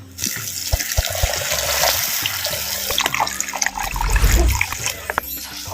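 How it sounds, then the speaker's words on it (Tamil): About 200 ml of water pours steadily into a cooking pot for a cauliflower dish, a close splashing gush that deepens as the vessel fills, with a few clinks around it. "இப்போ தேவையான அளவு பச்சை தண்ணி வந்து சேர்த்துக்கிறேன்"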